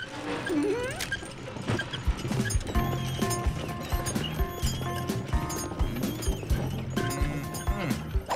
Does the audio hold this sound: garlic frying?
no